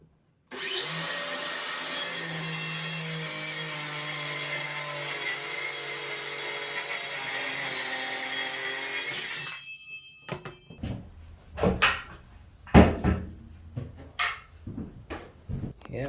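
A power saw slices through a wood clamp edge with a loud, steady whining roar for several seconds, then cuts off, followed by scattered clunks and knocks of handling the cut pieces.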